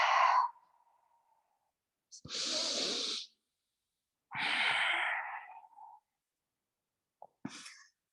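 Deep breaths during a vinyasa yoga flow come in slow, isolated puffs, a short exhale followed by long, breathy inhales and exhales separated by silence, close and fairly quiet.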